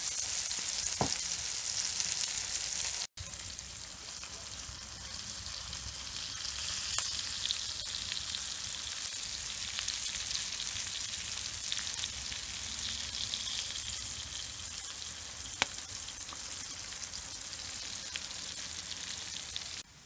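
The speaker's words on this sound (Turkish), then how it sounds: "Diğer tarafını da kızartacağım." Anchovies sizzle steadily in a hot pan, a dense continuous crackle of frying oil with occasional pops, no voices.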